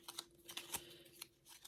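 A tiny tarot deck is shuffled with soft, faint riffling flicks and slaps in an uneven rhythm, close by and quiet.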